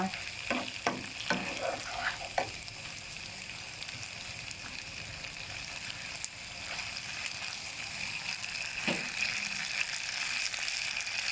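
Wide rice noodles with pork stir-fried in a wok for pad see ew, with a steady close sizzle and frying hiss throughout and a few scraping stirs near the start and again later.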